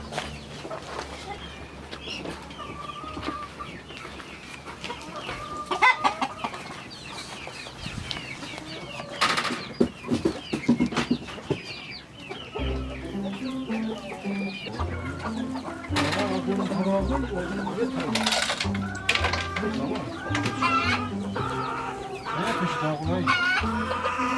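A disabled rooster clucks repeatedly nearby amid outdoor background noise, with occasional wing flaps and some voices talking.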